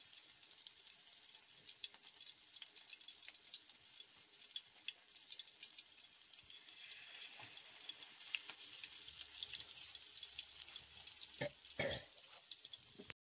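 Fish fries in a pan on a gas stove, giving off a steady, fairly quiet sizzle that lasts throughout. A few sharper clatters come near the end, and no one speaks.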